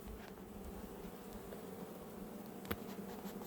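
Bees buzzing in an open beehive, a faint steady hum of many insects with one brief sharp knock partway through.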